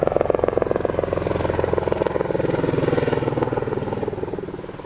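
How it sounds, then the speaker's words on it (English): A helicopter's steady, loud rotor thrum with rapid chopping pulses, holding close overhead and fading slightly at the end. "the local helicopter business apparently goes on."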